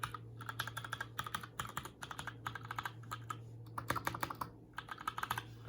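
Fast, close typing on a Durgod Venus mechanical keyboard fitted with light Gateron Brown switches, a dense run of crisp key clacks with brief pauses, heard alone.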